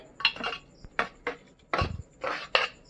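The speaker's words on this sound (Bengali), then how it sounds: "প্রেসার কুকার দম ছেড়ে দিয়েছে, খুলে নিচ্ছি আমি।" A pressure cooker of cooked masoor dal is opened, with a series of close metallic clanks and clinks from the lid and pot, about six separate knocks spread unevenly with quiet gaps between them.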